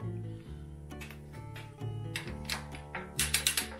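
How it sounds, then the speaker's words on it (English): A torque wrench retorquing engine bolts on a Ford Ranger with a swapped 302 V8, rapid ratcheting clicks in several bursts, growing sharper and louder toward the end, close with no talk. "Now we'll retorque these all again to 18 foot-pounds and we'll be done."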